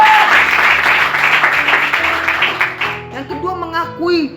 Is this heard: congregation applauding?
yes